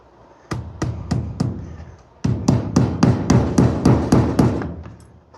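A hammer drives nails during haunted house construction: four sharp, ringing strikes, a short pause, then a faster run of about ten evenly spaced blows, close and loud.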